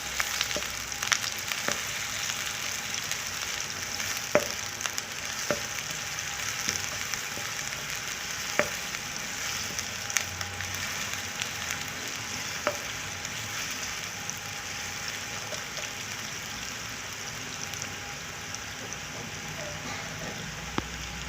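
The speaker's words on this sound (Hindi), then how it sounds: "प्याज को हमने थोड़ा सा फ्राई कर लिया।" Chopped onion frying in a pan for chicken vegetable macaroni gives a continuous soft sizzle under faint background hum, with occasional sharp ticks of a utensil scattered through it.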